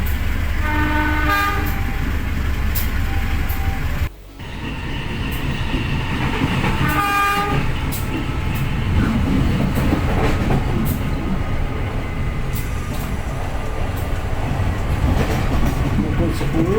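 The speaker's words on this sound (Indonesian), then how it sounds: "perlahan namun pasti kereta pun meluncur kembali menuju ke stasiun berikutnya" The KA Serayu passenger train on the Jakarta-Bandung route in Indonesia rumbles loudly along the rails with a constant roar and rattling, horn-like tones sounding early and again midway.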